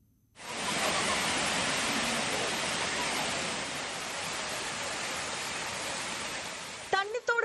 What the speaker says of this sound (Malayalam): മണ്ണീറ വനത്തിൽ നിന്ന് ഉത്ഭവിക്കുന്ന കാട്ടരുവികളിൽ നിന്ന് ഒഴുകിയെത്തുന്ന വെള്ളമാണ് താഴേക്ക് പതിക്കുന്നത്